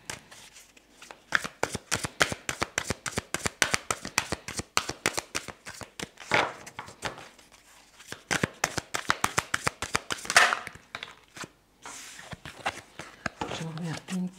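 Tarot cards are shuffled by hand in quick, crisp riffling bursts with short pauses between, close and fairly quiet, with someone speaking softly at times.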